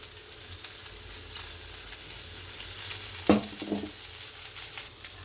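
Puffed rice and semolina snack frying in oil on a pan, soft steady sizzle close by with a sharp scrape or flip as it is turned midway.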